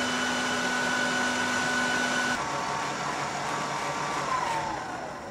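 An electric mixer whips Italian meringue for tiramisu, a loud, steady motor whine holding constant for several seconds, its pitch shifting slightly midway and sagging toward the end, close up with no talk.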